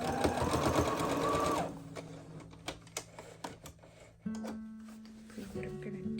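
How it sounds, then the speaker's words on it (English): A sewing machine stitches up the sides of fabric for a Nosferatu-style nightgown, with a steady fast run of stitching for about a second and a half, then scattered short ticks and clicks, with a few mechanical hums and pauses. "While I'm at the sewing machine, I'm just going to like sew the sides to secure the fabric."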